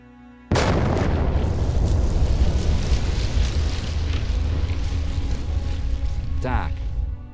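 A big blast goes off in a video game as rocks above a waterfall are blown apart, a sudden loud boom followed by a long, dense roar of rumbling debris and crashing water that continues for several seconds.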